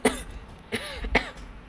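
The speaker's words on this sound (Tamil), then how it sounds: "யார் அது இப்படி இருமுறா?" Three sharp coughs from one person indoors, close and fairly loud, spaced irregularly with short quiet gaps.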